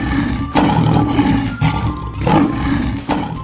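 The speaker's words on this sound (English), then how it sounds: "Lions have a very loud roar." A lion roars loudly and close, in several deep rumbling surges with short gaps between them.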